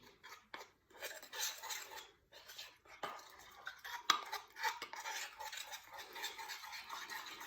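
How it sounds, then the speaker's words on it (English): Fork or spoon stirring vegan sponge cake batter in a bowl, a steady rasping scrape with light clinks against the sides, close and continuous with brief pauses. "use a fork or a spoon, okay, and then just give this now a bit of a stir"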